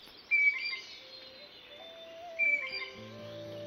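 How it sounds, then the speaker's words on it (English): Two brief, high whistled bird notes ring out a couple of seconds apart over a quiet, still background, with faint tonal hums beneath. "We heard our first bird."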